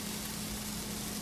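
A pizza burger patty sizzles in a skillet over medium-high heat, a faint, steady hiss and crackle lasting about a second with a low hum underneath.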